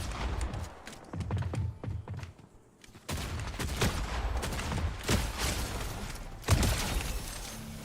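Shotgun gunfire in the Fortnite video game: a dense, rapid run of sharp blasts and impacts, with brief lulls, from fairly loud in-game action.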